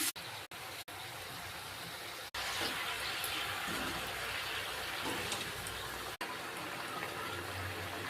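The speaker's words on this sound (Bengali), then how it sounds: "পরিমাণ মতো জল দিয়ে দিচ্ছি" Water poured into a cooking pan of fried spices, a steady gushing stream that runs on for several seconds with brief cuts, no talk.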